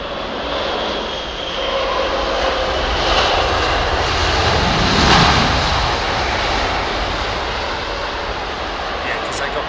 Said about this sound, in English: Etihad 380 on final